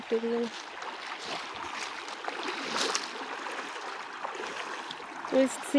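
Broad steady rushing of the Kabani river flowing, a continuous wash of water noise held at an even level throughout, with brief voices near the start and end.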